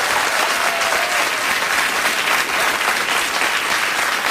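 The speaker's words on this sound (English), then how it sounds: "the warm applause-o-meter is on tonight as well" A late-night talk show studio audience applauds in a thick, continuous roar of clapping that stays loud and even throughout.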